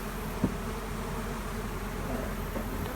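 Honey bees buzz around packed apiary hives in a dense, steady drone, close and continuous, with a brief louder bee passing near the start and no talk.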